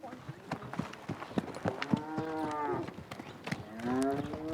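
Cattle moo on a Nevada ranch in several long, low, drawn-out calls that overlap one another, with hoof clip-clop and other farm noise around them and some voices in the background.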